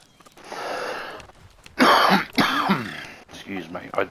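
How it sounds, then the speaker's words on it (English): A man coughs and clears his throat several times in quick, raspy bursts, close and fairly loud, ending with a short rough exhale. "I do apologize for coughing."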